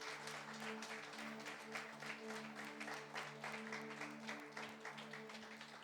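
A church congregation claps during a Sunday sermon, dense continuous applause with a rhythmic pulse, heard alongside a sustained tonal hum like music in the hall.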